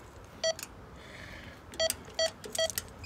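An apartment intercom keypad beeps as a door code is entered: four short electronic tones, one alone and then three in quick succession, over faint background hiss.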